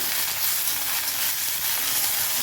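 Mint leaves sautéing in a hot pan for coriander chutney give a dense, even hiss of sizzling oil, steady and close throughout the short stretch, with no voices over it.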